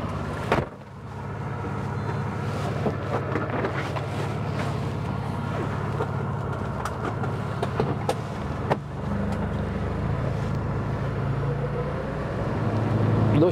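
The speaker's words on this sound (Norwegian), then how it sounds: "Nå kjører vi med denne franskproduserte Ligier." A French-made Ligier moped car with an 8-horsepower engine drives steadily, giving a continuous low motor drone with road and wind noise from inside the cabin and a few clicks and knocks.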